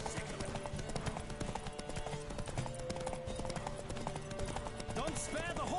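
Rapid galloping hooves of a horse in a horse race in The Witcher 3, a continuous clip-clop drumming under music and game sounds, with a voice talking over it.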